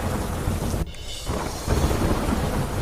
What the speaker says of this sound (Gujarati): ઝારખંડના રામગઢમાં કાળા ડિબાંગ વાદળો વચ્ચે શરૂ થયો વરસાદ